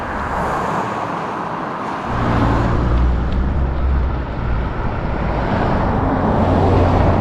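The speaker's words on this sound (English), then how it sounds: "Non-stop cars just constantly flowing by." Steady road traffic on a busy coastal road in Seaside, Oregon, cars rushing past close by in a continuous loud roar with a deeper engine rumble joining partway through.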